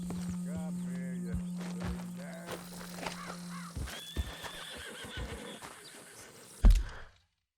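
Horse whinnying in the video game Red Dead Redemption 2, a near neigh with harmonic stacks early on, followed by scattered hoof and gear sounds and a sharp thump near the end.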